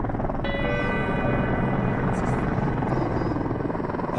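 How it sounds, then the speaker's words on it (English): A helicopter hovers over Mount Everest during an earthquake rescue, its rotor throbbing as a steady, fairly loud drone with a whining engine tone above it. "It's 24 hours before we see our first helicopter"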